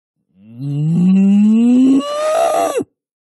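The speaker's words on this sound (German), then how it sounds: "Wenn man sich einen ganzen Tag lang neben eine Kuh stellt, hört man sie ungefähr hundertmal muhen." A single long cow moo, loud and close, swelling upward in pitch for about two and a half seconds before cutting off, alone with no talk.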